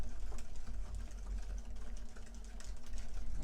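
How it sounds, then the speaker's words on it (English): Mashed bananas being worked into muffin batter for chocolate chip banana muffins, heard as a steady, continuous low whirring churn that holds at an even level without pause. "Now I'm gonna mix this up. Get my nanas all worked in there."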